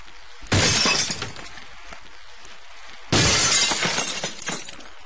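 Glass shatters under a vehicle in Happy Wheels in two loud, close bursts a few seconds apart, each a sharp crash that trails off into tinkling debris, with no talk.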